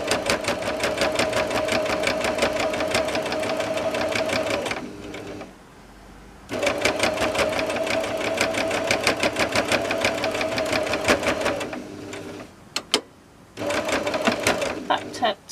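A sewing machine stitches a padded cushion cover in fast, steady runs, loud and close, stopping for a short pause between bursts, with a few sharp clicks before the stitching starts again.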